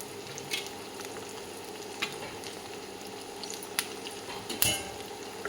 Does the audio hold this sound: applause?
no